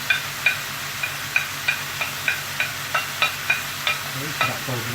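Onions and peppers sizzle in a pan for jambalaya while a spoon stirs them in regular scraping strokes, about twice a second, close and steady over the constant frying hiss.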